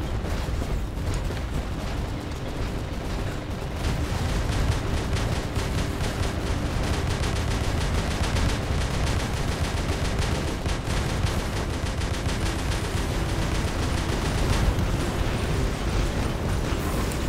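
Continuous gunfire and explosions from robot weapons in the War Robots video game, a dense, loud barrage of rapid shots and booms that runs without pause.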